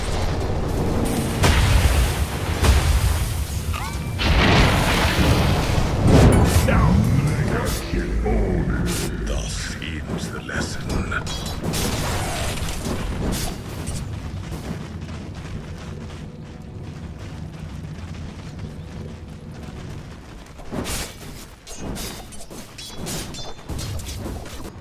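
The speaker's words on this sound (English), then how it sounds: "Dire's middle tower is under attack." Dota 2 match audio with a middle tower under attack: a loud, dense run of booming impacts and crashing spell effects for the first half, thinning into steadier clatter and scattered hits, with game voice lines mixed in.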